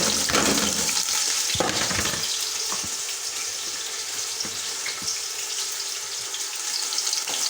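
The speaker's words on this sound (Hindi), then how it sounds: "ये मैंने प्याज डाल दिए और प्याज अब हम ब्राउन कर लेंगे अच्छे तरीके से।" Onions hit hot oil in a pot for beef pulao, a loud burst of frying hiss at first that settles into a quieter steady sizzle with a few utensil taps.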